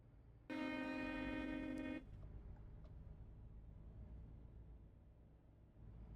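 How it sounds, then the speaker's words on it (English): A car horn sounds once in a long, loud honk of about a second and a half, inside American Truck Simulator at night near a Kenworth truck dealership in Illinois, followed by quiet ambient rumble. "Why is somebody honking a horn at"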